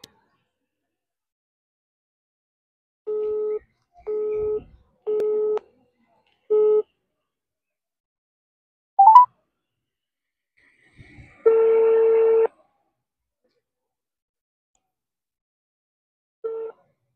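Phone-call tones: a series of short, evenly spaced beeps, then a brief rising chirp and a longer tone burst, each separated by silence, with a final short beep near the end.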